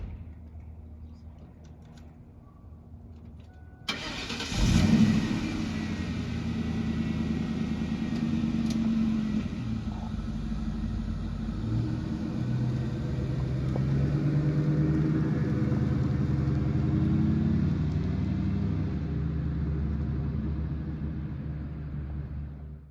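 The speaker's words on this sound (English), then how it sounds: "you'll see her drive off with it here in just a second" A 2004 Ford Mustang GT starts up and drives off, its engine rising into a steady mid-pitched rumble that holds for about twenty seconds, fairly loud and close, with no voices.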